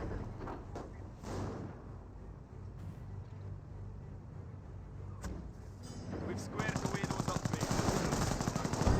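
Small-arms and machine-gun fire hits an infantry squad in the Company of Heroes World War II strategy game: scattered distant shots at first, then rapid, louder bursts building toward the end over a low rumbling battle background.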